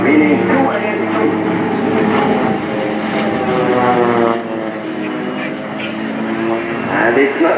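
Several Swiss Air Force Pilatus PC-7 propeller trainers fly a dogfight display at an air show, a sustained loud droning engine roar that swells and fades as the planes pass, heard under a commentator's continuous narration.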